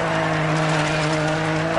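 A rally car engine in the video game Dirt 4 roars at high revs while accelerating, a steady loud buzzing drone with a constant pitch, close and unbroken throughout.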